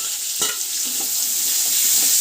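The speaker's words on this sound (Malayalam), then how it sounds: "അപ്പോൾ അതിവിടെ കിടന്ന് വഴറ്റി വരട്ടെ" Chopped large onions and curry leaves sauté in hot oil in a pan, giving a steady close hiss of frying with a few soft stirring scrapes and no voices.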